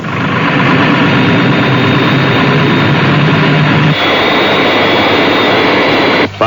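Fireflash airliner jet engines on landing approach roar steadily and loud, a dense continuous whine and rumble close by, with a brief dip near the end.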